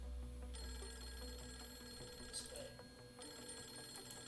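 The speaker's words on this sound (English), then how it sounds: "The phone ringing." Telephone ringing at low volume over a steady hum, a sustained electronic ring that pauses briefly and resumes, with no voices.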